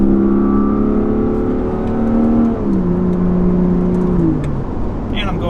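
A BMW Z4 coupe, not in sport mode, accelerates hard uphill: a loud, close engine drone rises in pitch, drops at a gear change, then climbs again before another shift.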